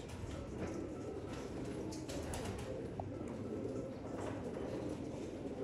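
Pigeons from a breeder's flock for sale coo softly beneath a steady wash of background noise resembling a passing train, with no voices.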